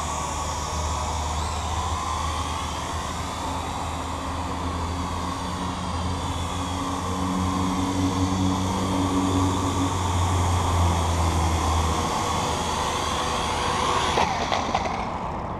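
A SYMA X8C toy quadcopter drone whirs steadily with a droning, buzzing rotor tone throughout, loud and close, before touching down near the end.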